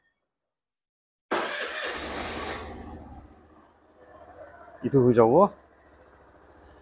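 A 2023 Suzuki Avenis 125 cc four-stroke scooter gives a short, loud exhaust burst that settles into a low idle, and a person then speaks briefly over the engine.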